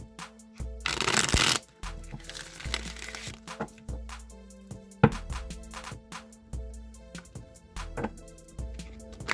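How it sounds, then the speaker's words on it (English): Rider-Waite tarot deck being shuffled several times, crisp riffling bursts of cards alternating with softer taps and slides, close and clear with no talking. "I'm just going to shuffle the Rider-Waite deck a few times"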